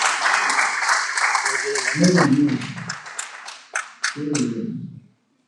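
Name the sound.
church congregation applauding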